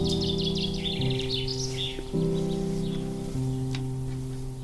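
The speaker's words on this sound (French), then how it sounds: "Peut-être des chants d'oiseaux sur ton enregistrement." Birds chirp and twitter in a garden, the bright calls clustered in the first two seconds and fading later, set against a loud, steady tonal hum that shifts pitch in steps.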